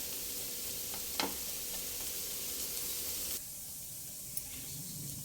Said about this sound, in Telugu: ఇదిగోనండి, సగం వేగింది